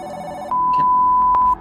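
Telephone ringing in the horror video game The Dolls Reborn: a single clean electronic ring tone, loud and close, sustained for about a second with no talk over it.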